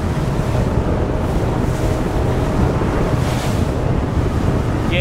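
A luxury Italian RIB motors down swell over ocean waves at about 21 to 27 knots, with a steady roar of wind and rushing water and rhythmic surges as the hull rides the swell.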